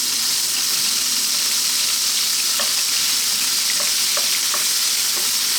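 Ginger and pork frying over maximum heat in a wok, a loud, dense, continuous sizzle with faint scattered pops and crackles throughout.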